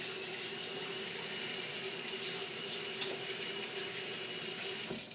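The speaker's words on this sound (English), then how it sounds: "I'm just going to wash my hands again." Tap water runs steadily into a sink as hands are washed beneath it, a continuous close splashing rush with no voices.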